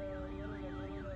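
A wailing siren rises and falls in a steady cycle on a van racing along a road in Bihar, loud and continuous over rumbling traffic noise.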